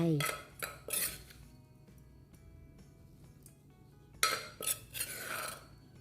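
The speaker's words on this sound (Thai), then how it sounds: "ใส่เครื่องต่างๆที่เราตำไว้ลงไป" Ingredients for a Thai young jackfruit salad with coconut milk are added and mixed in a bowl, with clinks of a spoon against dishware in scattered bursts at the start and end and quieter scraping between.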